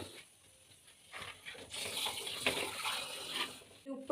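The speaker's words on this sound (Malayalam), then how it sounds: "പാകത്തിന് നമുക്ക് എന്താവാം വെള്ളവും കൂടി ചേർത്ത് കൊടുക്കാം" Water poured into a pan of fish curry as it cooks, a steady splashing pour that builds and runs for a few seconds, fairly close, with no talk over it.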